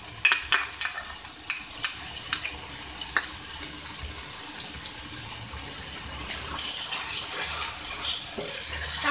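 Curry masala with yogurt is stirred and cooked in a pan, opening with a quick run of sharp spoon taps and scrapes, then settling into a soft steady sizzle and bubbling, with no talk.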